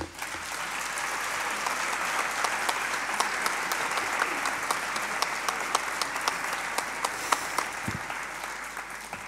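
Audience applauding after a festival opening speech, a steady dense clapping from a large crowd indoors, loud and continuous throughout with no speech over it.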